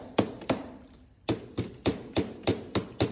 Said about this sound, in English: And then I'll kind of hammer it in place.